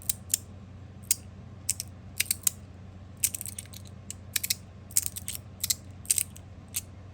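A magnetic fidget toy snaps out sharp, bright clicks in irregular bursts and quick doubles, close and loud over a faint steady room hum.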